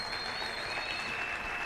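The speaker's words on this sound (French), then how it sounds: "Nous voulons applaudir le Seigneur en acclamant très fort." Congregation applauding during a church service, a continuous dense patter of many hands clapping together at moderate volume, with a faint high tone running through it.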